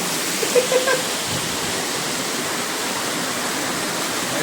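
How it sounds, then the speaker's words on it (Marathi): Heavy night rain driven by wind pours down onto a balcony, a dense, steady roar of water that holds loud and unbroken throughout with no voices. "भरपूर जोरात पाऊस पडतोय"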